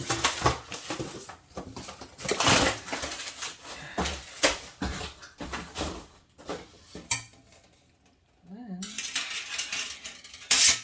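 The non-stick oil tray of a Hamilton Beach air fryer is handled, giving close, scattered clinks and metallic clatters with brief pauses, a short quiet gap, then more rattling.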